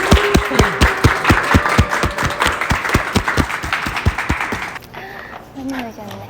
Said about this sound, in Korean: 주인공이신 우리 3명의 패널분들 박수로서 한번 모셔보도록 할게요